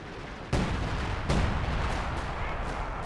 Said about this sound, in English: Yeah, artillery cover coming down.